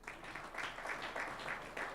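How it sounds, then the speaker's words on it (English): Brief applause from an audience at an African Academy of Sciences session honoring Professor Stephen Agong, a fairly faint, rhythmic patter of clapping lasting about two seconds. "You can applaud him, please."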